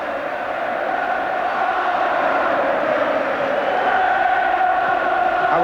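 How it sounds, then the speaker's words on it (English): A large football crowd at the 1990 FA Cup Final replay between Manchester United and Crystal Palace makes a dense, steady roar of applause and noise. It stays loud and unbroken throughout, with no single voice standing out. "Palace sportingly applaud the victors"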